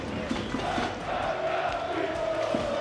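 Crowd noise at a Hapoel Kiryat Shmona versus Hapoel Tel Aviv football match fills the stadium as a steady, broad roar with scattered shouts, holding at an even level throughout.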